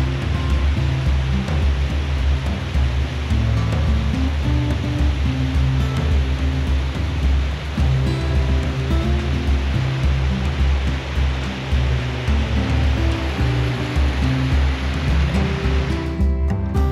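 A waterfall near the Oeschinensee above Kandersteg in the Bernese Oberland roars as a steady, dense rush of water, broad and continuous throughout with no voices over it.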